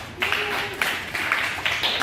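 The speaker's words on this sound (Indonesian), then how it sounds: "tepuk tangan dulu untuk kelompok 4" A group claps together in a classroom, a brief burst of applause with voices mixed in.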